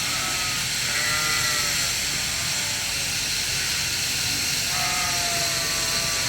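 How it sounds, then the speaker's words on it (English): Dorset ram lambs bleat over a loud, steady hiss, their wavering calls rising above the constant noise. "here's the beautiful ram lambs, the Dorset boys"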